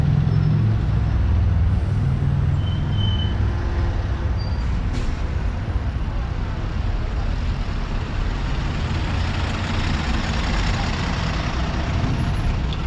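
Dense street traffic on a congested city boulevard grinds past continuously, with heavy trucks and buses rumbling low, engines droning and brief higher squeals or hisses like air brakes, with no clear voices.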